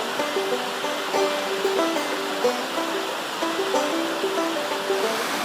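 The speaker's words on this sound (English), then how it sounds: "Next stop was Beetallup Falls, accessed by a suspension bridge over Beetallup Brook." Steady broadband rush of water at Beetallup Falls and Beetallup Brook, crossed by a suspension bridge, filling the whole span at an even level, with faint tonal birdlike notes layered over the continuous flow.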